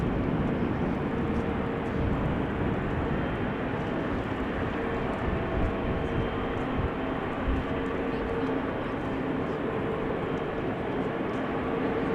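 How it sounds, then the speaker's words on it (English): A Qatar Airways Boeing 777 freighter at rainy Amsterdam Schiphol Airport produces a dense, continuous engine rumble that holds steady and loud throughout. "Here it is, the Qatar 777 freighter to Doha, coming this way."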